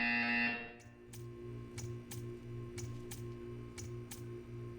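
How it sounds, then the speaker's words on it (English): A loud electronic buzzer in the video game Portal 2 blares for about half a second, then falls away to quiet ticking and a low hum. "You will hear a buzzer. When you hear the buzzer, stare at the art."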